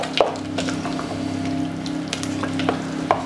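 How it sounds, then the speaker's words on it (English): Sun-dried tomato pieces are stirred into a sizzling pan of asparagus risotto, giving a close, steady frying hiss with scraping stir strokes and a few clicks. "Now we're going to add our sun-dried tomato pieces, and again stir that in"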